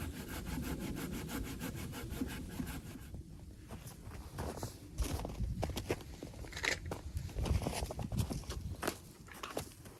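An Agawa Boreal21 folding bow saw cuts through wood, first in fast even back-and-forth strokes, then rougher, uneven rasping and crunching as the cut nears its end, close and loud.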